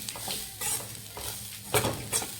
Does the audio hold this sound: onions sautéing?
yes